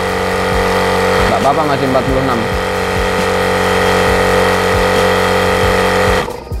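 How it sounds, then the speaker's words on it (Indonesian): A compressor fills an air rifle with a loud, steady mechanical drone and regular rhythmic pulsing that cuts off near the end, while a person speaks briefly over it. "mantap sekali kompresornya ini, cukup cepat ya ngisinya anginnya ini ya"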